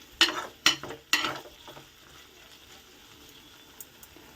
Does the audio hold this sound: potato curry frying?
yes